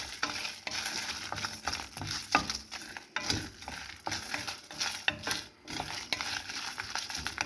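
Pepper and coriander seeds fry in a pan, a crackling sizzle broken by repeated scraping and stirring strokes, close and uneven in loudness, with no talking.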